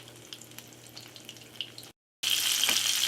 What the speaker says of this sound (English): We're going to fry these for about 3-4 minutes aside.